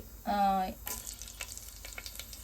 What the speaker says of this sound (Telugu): ఆయిల్ హీట్ అయ్యాక ఇందులో కొద్దిగా ఆవాలు, అలాగే కొద్దిగా జీలకర్ర కూడా వేసుకుంటున్నాను